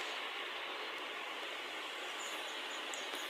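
A train runs through a spider-monster horror video game, giving a steady, loud rolling hiss and rumble that holds unbroken for a few seconds without speech.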